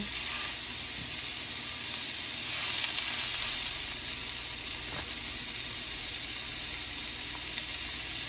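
Smash burger patties sizzle steadily in a hot pan at home, a continuous bright frying hiss with faint crackles and no talk over it.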